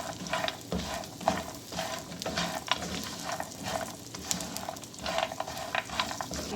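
Panjiri ingredients roasting lightly in a pan while being stirred: steady faint scraping and clicking of a spoon against the pan, with a soft continuous sizzle underneath.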